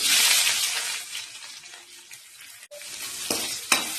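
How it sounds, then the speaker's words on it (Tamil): Onion and garlic frying in a pan give off a loud hiss that fades over a couple of seconds, then a few sharp clicks and scrapes from stirring, close and with no voices. "நல்லா ஃப்ரை பண்ணணும்."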